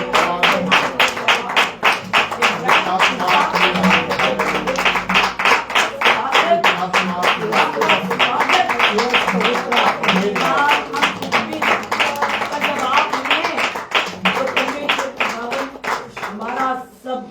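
Steady rhythmic hand clapping keeps the beat throughout, mixed with loud singing or voices in a lively Hindi-language group prayer meeting.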